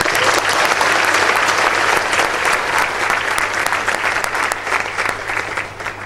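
Sustained audience applause at a university graduation ceremony, dense and loud from start to finish with no voices breaking through, tapering only slightly at the end.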